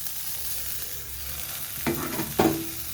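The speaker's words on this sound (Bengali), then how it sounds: "আলু আর ধনে পাতা দিয়ে আমি একটু নেড়ে চেড়ে নেব" Potatoes and coriander leaves frying in a pan, a soft steady sizzle followed by two quick stirring scrapes near the end, close by and without any voices.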